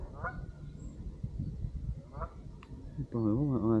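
Baby geese alongside ducks making short honking calls, with a louder run of honks at the end, over background chatter and movement.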